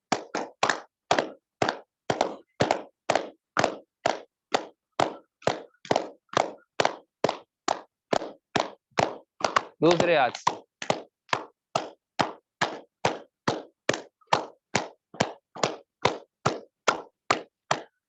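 Rapid, evenly spaced claps, about two per second for the whole stretch, each a sharp slap, with a brief spoken voice in the middle.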